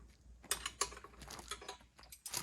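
A wrench tightens a 13 mm fitting on a retractable air hose reel, giving a close series of quick metallic ratcheting clicks and taps in irregular bursts.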